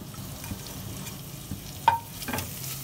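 A spoon stirs a macaroni masala mixture seasoned with salt and black pepper in a pan, making faint, sparse scrapes and a soft sizzle in a quiet kitchen.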